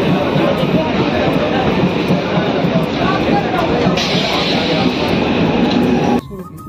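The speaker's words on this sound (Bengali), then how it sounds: "ট্রেন একটু চলে আসে, তো পরেই চলে আসে ট্রেন" A train arrives at a suburban station near Dum Dum, its loud, steady rumble and clatter filling the air continuously before cutting off abruptly near the end.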